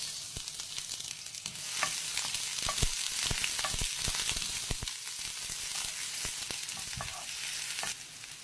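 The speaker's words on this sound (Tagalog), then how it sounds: "Mainit na po yung mantika. Lagay na po natin yung sibuyas." Onion dropped into hot oil for a shrimp dish gives a loud, continuous close sizzle that runs the full eight seconds, broken by scattered clicks of stirring, with no voices.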